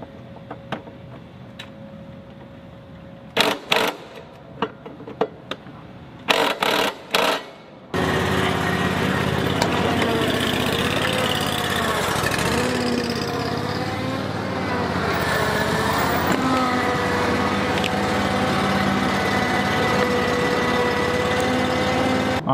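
A lawn mower fitted with six blades roars steadily and loud for most of the stretch through debris and leaves, after several sharp clanks and short bursts at the start.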